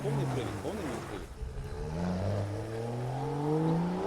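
An engine rises in pitch as a car pulls up fast and revs, the whine climbing steadily over about four seconds, with voices talking over it.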